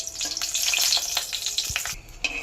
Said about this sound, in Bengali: লঙ্কাটা ভেজে নেব